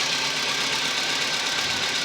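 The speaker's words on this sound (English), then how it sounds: "If we block off that, we can hear maybe if the idle changes." Engine of a Mk1–3 VW Golf or Polo with MP9 injection and an over-fuelling fault, idling with the fuel pressure regulator unplugged: a steady, close hiss and hum with a faint knocking undertone, no voices.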